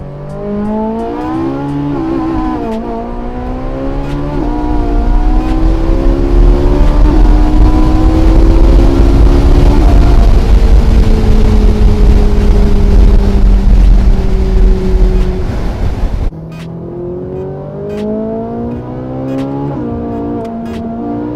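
A Ferrari 458 Italia V8 winds up through the gears toward redline in loud, rising howls, pitch climbing sharply with each pull, then a gear change and another climbing surge close by, outdoors in wet snowy conditions.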